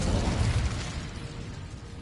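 A fiery spell blast in the Hogwarts Legacy video game bursts as a loud, rumbling whoosh that peaks at once and then fades to a broad crackling roar, with no voices.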